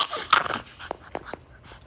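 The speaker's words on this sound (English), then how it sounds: "What are you barking for?" A ten-week-old Old English Bulldog puppy lets out a few high, wavering whimpers and short yips in a row, close and fairly loud, with snuffly breathing between the cries.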